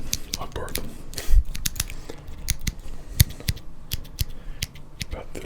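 Borrowed household scissors making close, sharp little snips in quick uneven bursts, with a faint whispered voice in the background.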